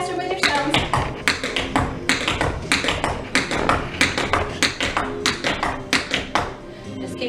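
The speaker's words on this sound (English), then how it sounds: "Toe, toe, heel, heel. Toe, toe, heel, heel. 4 sounds." Rapid tap-shoe strikes on a hard floor, toe, toe, heel, heel in a steady repeating four-beat pattern, close and crisp.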